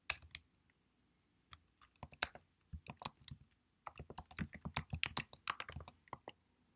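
Fingers tap out a name on a computer keyboard, close and clear: short bursts of clicking keystrokes with pauses, then a longer, faster run of typing, with no talk.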